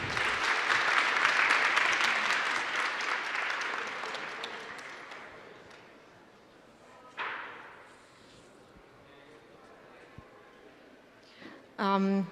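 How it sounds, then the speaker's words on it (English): A round of audience applause at a geopolitical conference panel swells and then gradually fades over several seconds, followed by a few scattered thuds and knocks and a brief bit of voice near the end. "Please give them a big round of applause once again"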